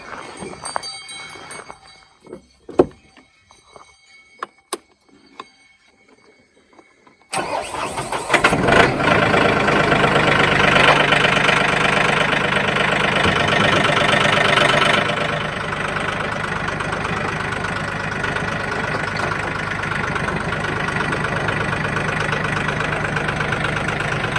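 A Farmall Super C tractor engine starts after some faint clattering and handling noises, then idles loudly and steadily for the remainder, a close, continuous mid-pitched rumble.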